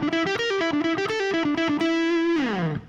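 Distorted electric guitar plays a fast, picked solo phrase, rapid separate notes leading into a held note that bends downward and fades, loud and alone.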